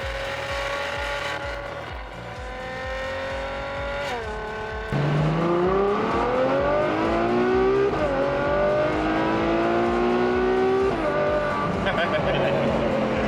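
A Ferrari four-seater accelerates hard along Southern California canyon roads, its engine note climbing steadily through several gear changes, loud and close throughout with tire and road noise underneath.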